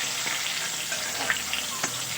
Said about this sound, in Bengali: টমেটোটা আমি তেলের সঙ্গে একটু নাড়াচাড়া করে নেব